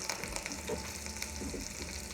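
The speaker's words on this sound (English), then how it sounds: "you can hear the crackling and it's ready. So I'm going to put the chicken breast in there first." Chicken breast sizzles and crackles in a hot pan for chicken paprikash, a steady close frying hiss with small pops throughout.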